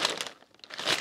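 Tissue paper wrapped around a secondhand clothing purchase crinkles close up as it is unwrapped, two bursts of soft rustling separated by a brief lull.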